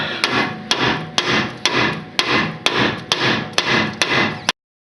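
Hammer blows strike a car's tie rod end to knock it loose from a tie rod end puller, nine sharp metallic smacks in a steady rhythm, each ringing briefly before the next, loud and close with no talk.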